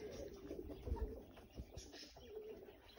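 Racing pigeons arriving at a loft after a 130 km race from Bergerac coo softly and intermittently against a quiet outdoor background. A few faint chirps appear, and no one speaks.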